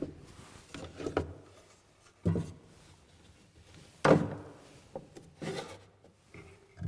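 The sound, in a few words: drawers of an antique cabinet being opened and closed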